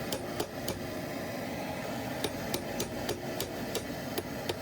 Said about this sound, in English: you're going to tap on the valve with your hammer.